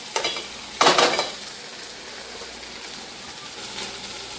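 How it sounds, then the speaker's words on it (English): Vegetables sizzle in a pan beside pan-fried tilapia with pesto, as a fork stirs and scrapes through them in two brief bursts over a steady, close frying hiss. "Just grab the fork to mix our vegetables in"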